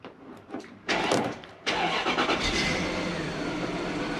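A Toyota Soarer's engine is cranked on a cold day: a few short starter bursts, then the engine catches and settles into a steady, close idle.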